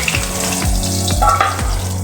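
Boal fish fries in a pan with a continuous, close, loud sizzle and a few wet bubbling pops.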